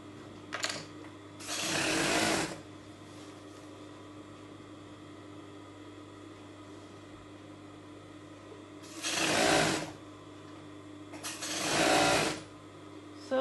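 A sewing machine stitches a zippered cushion cover in three separate runs, one longer burst and two shorter ones, with a steady close whirr and quiet pauses between runs.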